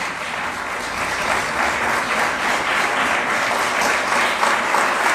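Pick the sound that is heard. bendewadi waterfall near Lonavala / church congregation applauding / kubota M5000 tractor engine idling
church congregation applauding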